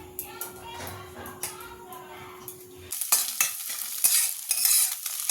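An egg frying in a pan, cooked until browned: a low hum and a few light clinks, then a loud, steady sizzle with crackles that takes over partway through, close and with no talk.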